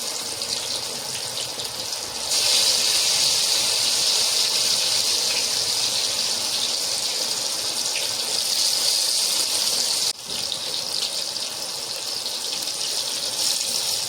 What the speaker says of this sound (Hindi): ये देखिए, फिश मैंने इसमें डाल ली है